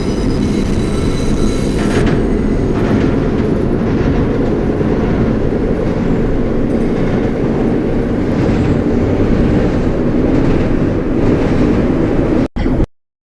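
An NYC Subway R142 train in the OpenBVE simulator runs loud and close, a continuous rolling roar of wheels on rail with rhythmic rumbling, ending in an abrupt cut to silence.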